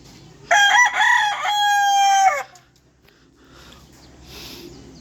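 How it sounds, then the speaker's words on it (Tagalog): A rooster gives one loud, close crow lasting about two seconds, followed by quiet background with faint rustling. "Yan manok guys."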